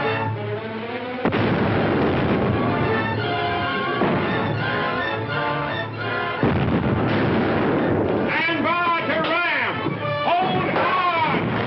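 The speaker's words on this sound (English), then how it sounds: "We'll give them a broadside." A ship's cannon broadside fires in a film battle scene, loud repeated booms and crashes filling the stretch, with dialogue and music mixed over the gunfire.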